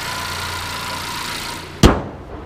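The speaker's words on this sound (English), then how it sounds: "Honda engine, and smooth, strong," A 2015 Honda Accord engine idles with an even, smooth hum, then a single sharp thump, like a door closing, cuts through near the end before things go quiet.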